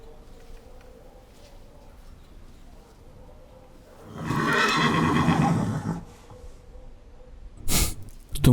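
A horse lets out a loud, drawn-out neigh lasting about two seconds, rising out of a quiet background, followed by a short, sharp burst of noise near the end.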